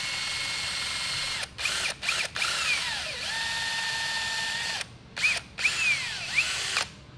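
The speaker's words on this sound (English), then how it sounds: "We're gonna get a drill bit, drill a hole in this part of the air filter" An electric drill bores a hole in a turbo dragster's air filter in several short bursts: it whines up, cuts, pauses and spins up again, close and clear, with no talking.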